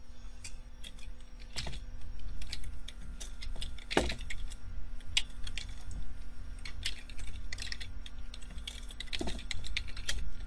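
Someone types a terminal install command on a computer keyboard: sparse, uneven clicks with a few sharper, louder taps over a steady low background hum, and no talking.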